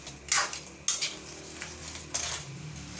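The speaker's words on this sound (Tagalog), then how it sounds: "Haluin natin ang sandok para mahalo natin maayos." A metal ladle stirring squash stew (ginataang kalabasa with crab) in a pot, several bright scraping clinks against the pot's side at irregular intervals, close and clear, with no speech.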